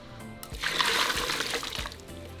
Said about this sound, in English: we're going to drain the water from our chiles.